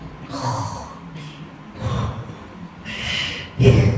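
A voice imitates the gurgling, snore-like rattle of a dying person's breathing in the chest, giving a few rough, snorting breaths in short bursts, loud and close.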